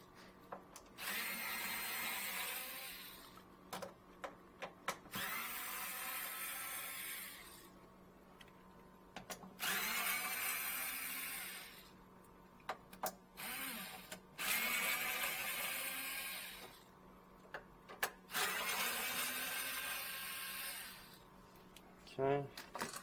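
Power driver undoing the monitor screws of an arcade machine, repeated whirring bursts of a few seconds each with brief pauses between them, close by, and short clicks and handling noises in the gaps.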